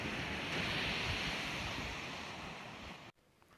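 Steady ocean surf and wind rush across the open sea around a fishing boat, a broad continuous roar that eases slightly before cutting off abruptly near the end.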